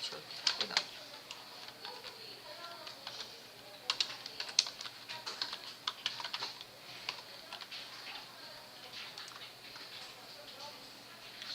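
Typing on a computer keyboard while working in Photoshop, a steady patter of quiet, close key clicks that runs throughout.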